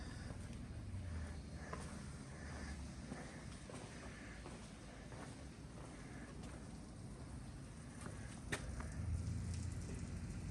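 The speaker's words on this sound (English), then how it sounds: "It just started pouring down rain." Heavy rain pours down outdoors in a steady, dense hiss with faint low rumbles beneath it, sounding constant and fairly distant, with no talking.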